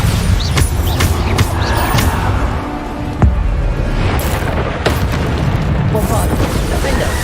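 Repeated Bombarda spell blasts in the Hogwarts Legacy video game, sharp booms and bursts landing every second or so amid combat clatter, under a voice calling out spells.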